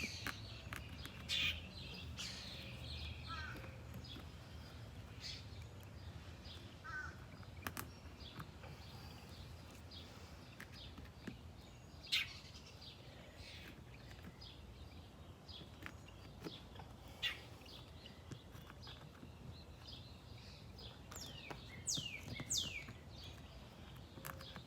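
Birds chirp cheerfully in the morning, with scattered short calls and tweets coming and going over a steady low outdoor background, fairly distant and soft.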